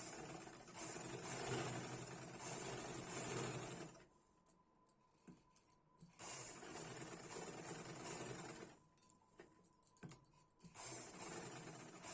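A sewing machine stitches a blouse lining in two long steady runs, a continuous close whirring broken by a quiet pause with faint handling clicks before it starts again.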